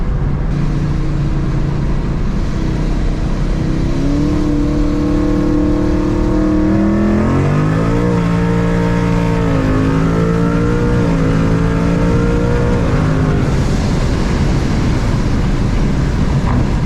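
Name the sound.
900HP Mustang engine accelerating in third gear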